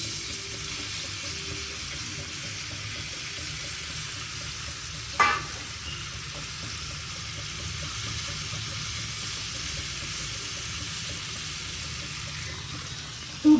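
Sliced okra fries in a pan as a steady, even sizzle, close and continuous, with one short clink of a utensil partway through.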